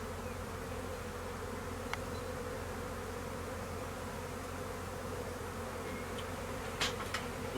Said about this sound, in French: Je vais prendre le gros de l'essaim maintenant